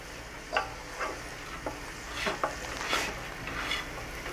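Minced garlic sizzles in melted butter in a pan, a steady close frying hiss broken by scattered clicks and scrapes of stirring, with no talking.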